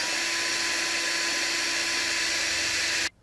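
A power driver runs continuously while sinking a screw into a wooden lidded box, a steady whining motor hum held at constant loudness for about three seconds before stopping abruptly.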